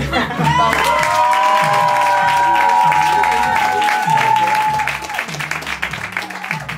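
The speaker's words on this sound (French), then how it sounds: "Votez par applaudissement" An improv-festival audience in Paris claps and cheers to vote for a performer, with steady, full applause over a pulsing musical beat and a sustained tone that fades midway.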